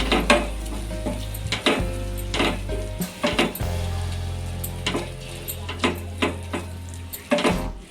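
Bottle gourd halwa mixture with food colouring stirred in a pan, a steady close sizzle broken by repeated spoon scrapes and clinks against the metal, no voices.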